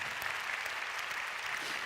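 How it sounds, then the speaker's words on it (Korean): A church congregation applauding during a Korean sermon, steady dense clapping from many hands throughout, moderately loud and without talk. "감사의 박수합시다"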